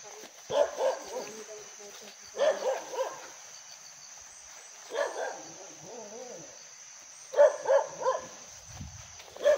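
Dog barking near a house, heard as several short bursts of barks spaced a few seconds apart, fairly close, with a faint steady high-pitched tone running underneath.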